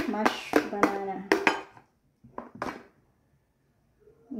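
Mashed banana gets stirred into cake batter, heard as several quick clinks and scrapes of a utensil against a bowl in short bursts with pauses between them.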